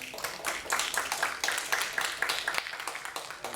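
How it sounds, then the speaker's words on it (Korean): A church congregation at Sunday service applauding in welcome for a visiting member, a lively, irregular crowd of claps at moderate volume, continuing for a few seconds without talk. "우리 한번 환영의 박수 한번 부탁드리겠습니다."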